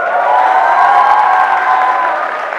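Audience applause fills a university auditorium at a business school's hosted show at Salim Habib University, a dense, steady wash of clapping with crowd noise that holds for the whole stretch and eases slightly at the end.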